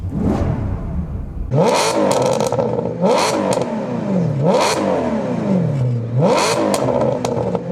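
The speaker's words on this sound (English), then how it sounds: "let me demonstrate, guys, what it sounds like when you rev the engine now" A Maserati car engine revs hard four times in a row, each rev climbing and dropping back to idle, loud and close.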